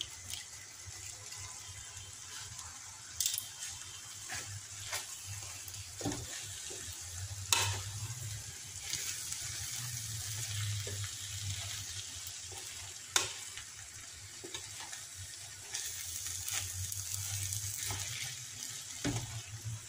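A filling for msemen frying and being stirred in a pan gives a soft, continuous sizzle, broken by scraping stirs and a few sharp clinks of utensil on metal, heard fairly close with no talking.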